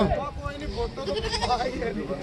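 A group of goats bleats close by, with overlapping wavering cries mixed in with people talking nearby.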